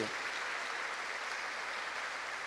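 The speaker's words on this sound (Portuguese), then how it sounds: "Uma salva de palmas, quanta gente!" A church congregation at an evening novena Mass for the feast of São José Operário gives a round of applause, a faint, even, continuous patter heard from a distance with no talking.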